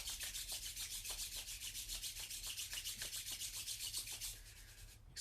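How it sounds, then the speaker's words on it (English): Palms rubbed briskly together during a yoga session, a fast rhythmic swishing of skin on skin repeating about four times a second, close and soft, then stopping near the end. "Let's rub the palms together."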